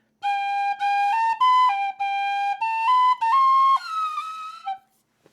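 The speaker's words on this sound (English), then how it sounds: "Every time I try and take myself seriously as a tin whistle player, one of those notes comes out." A tin whistle plays a short run of clear, sustained notes in a quick melody, close and loud, with a slightly off, wavering note near the end before it stops.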